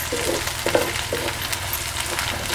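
Green chili, garlic and cumin being fried as a tempering, a close, steady sizzle with a few soft scraping stirs, no voices present.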